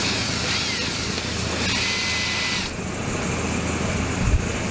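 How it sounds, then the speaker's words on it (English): A power drill whirs continuously while turning a part during reassembly of a Farmall Super A tractor engine, a close, steady mechanical drone that shifts pitch partway through, with no speech. "Now I put my drill on it"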